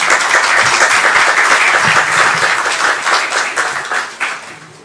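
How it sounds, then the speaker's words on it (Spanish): Loud, dense applause from an audience at an international bicentennial conference, a steady wash of clapping that holds for several seconds and then gradually thins and fades toward the end. "recibamos con un fuerte aplauso a don Roberto Lacerna Rojas."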